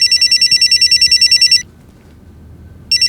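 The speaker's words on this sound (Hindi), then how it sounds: "गुरु का फोन है।" A telephone rings in a tense crime-drama scene, a loud rapid electronic trill bursting for about a second and a half, pausing in near silence, then starting again, with no talking.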